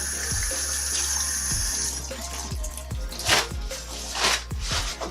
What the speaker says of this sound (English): pour the contents of your spit bowl into the sink, rinse it, and rinse the toothbrush